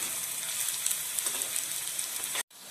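Finely chopped onion and green chili fry in a pan for kande pohe, giving a steady close hiss of sizzling oil with faint spattering pops that cuts off abruptly near the end.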